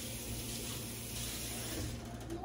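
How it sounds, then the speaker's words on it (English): Water runs steadily from a kitchen faucet while tomato paste cans are rinsed under it, a continuous close hiss with light clinks near the end. "Always rinse your cans off."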